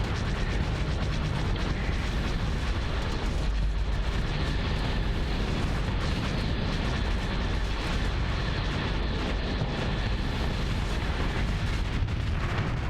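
A battleship blows up in the space game Starsector, a loud, dense roar of explosions and crackling blasts rumbling on without a break, with heavy low-end booms throughout.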